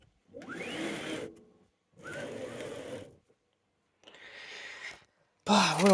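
A large 600x350mm 3D printer runs in three separate bursts of whirring, buzzing motor movement with short pauses between them, followed by a louder final burst.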